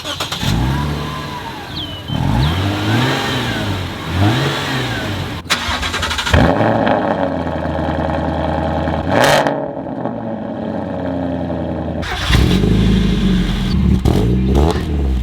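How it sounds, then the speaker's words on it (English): Four car engines, including a Lexus, crank and fire up one after another, each revving up and down in bursts, loud and close, with a brief whooshing pass midway. "Let's get a start up on all four of the cars real quick"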